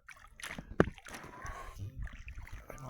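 Paddle strokes from a Freespirit Sobek 1 kayak dip and splash softly in calm water close by, a few quiet swishes with a faint voice in the background.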